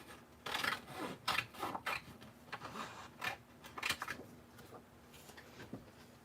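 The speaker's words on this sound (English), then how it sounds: "Let's get my scissors here." Crisp snipping and crinkly rustling of scissors cutting through a thin GinaK Poly-Glaze foiling sheet, several cuts in a row at close range with no talking.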